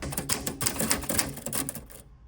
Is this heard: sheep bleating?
no